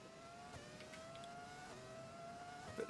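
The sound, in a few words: 2003 F1 car V10 engine in F1 2020 video game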